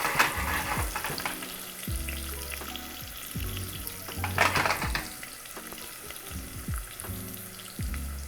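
Food frying golden brown in a pan, a close, steady sizzle and crackle with scraping stirring sounds and low clunks of the pan, no voices over it.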